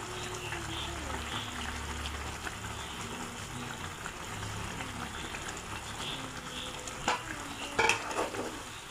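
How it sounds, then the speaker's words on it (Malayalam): Curry masala paste for egg curry bubbles and sizzles in a pan, a soft continuous simmer with a few brief clinks of a spoon toward the end. "ഇപ്പം അരപ്പെല്ലാം തിളച്ച് വന്നിട്ടുണ്ട്"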